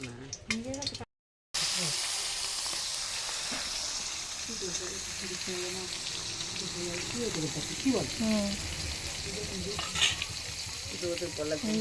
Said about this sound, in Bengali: মা ভাজছে, মাছ ভাজা হয়ে গেল